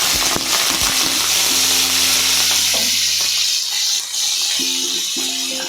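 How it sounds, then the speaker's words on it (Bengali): Shrimp frying in hot oil with turmeric and salt, a steady loud sizzle and hiss close up, with occasional clinks of a utensil stirring the pan. "এখন চিংড়ি মাছটা ফ্রাই করতে দিয়ে দেব হলুদ আর একটু নুন দিয়ে"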